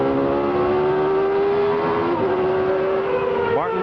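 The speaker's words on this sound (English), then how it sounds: "Looking out the back of Martin Brundle's car" Brabham Judd V8 Formula 1 car at the 1989 Spanish Grand Prix, heard from a rear-facing onboard camera: a loud, continuous high-pitched engine scream holding steady revs, then a quick upshift-like change near the end.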